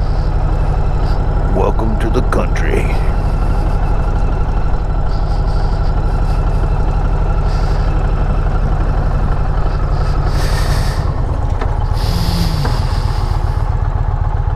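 A John Deere tractor runs along a country road beside a moving motorcycle, its engine a steady loud low drone mixed with the bike's own rumble and wind, with someone talking over it.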